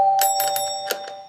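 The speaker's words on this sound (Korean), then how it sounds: "초인종을 누르는데 문이 바로 열렸어요." A doorbell rings as a sound effect in a Korean audio drama about a housewarming visit at a friend's home: bright, close electronic chimes in several quick strikes over a steady tonal hum, with no voices.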